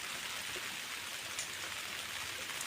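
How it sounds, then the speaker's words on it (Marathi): Downpour over a coastal creek where fish are being caught makes a constant broadband patter, low in level and unbroken for the whole stretch, without speech. "किती खदुळा पाऊस पडतो"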